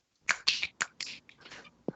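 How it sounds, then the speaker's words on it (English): Crisp finger snaps keeping time to the Addams Family theme, about six sharp clicks in an uneven rhythm, close and alone against silence. "Everybody, please do snap your fingers when it's appropriate."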